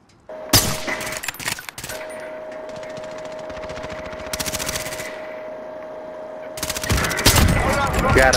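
Automatic gunfire from Call of Duty: Warzone Rebirth Island, loud, rapid sustained bursts with sharp single shots, heard up close over a steady electronic tone from the game.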